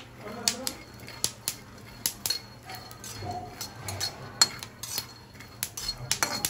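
Peanuts dry-roasting in a pan and stirred with a ladle, giving repeated close clinks and scrapes of metal on the pan at an uneven rhythm, with talking in between.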